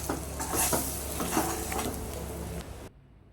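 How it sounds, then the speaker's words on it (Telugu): Eggs fry in a pan while being stirred: a soft sizzle under several scraping, tapping strokes of a spoon against the pan, close and moderately loud, then cutting off abruptly near the end. "గుడ్లు ముందుగానే నేను పెట్టుకున్నాను గిన్నెలో వేసి బాగా ఫ్రై చేయాలి."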